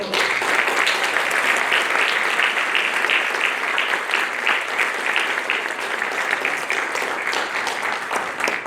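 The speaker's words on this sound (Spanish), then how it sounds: "Lo recibimos con fuerte aplauso." Audience applause welcoming the author at a book presentation held by a lawyers' association in Lima, sustained thick clapping from a large crowd in a hall, steady and loud throughout.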